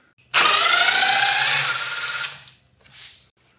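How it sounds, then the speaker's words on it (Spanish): A power drill bores into wood with a loud, steady whine for about two seconds, then stops, followed by a brief fainter burst. "voy a volver a hacer otra perforación y voy a colocar el tornillo"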